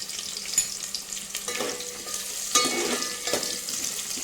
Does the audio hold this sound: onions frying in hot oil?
yes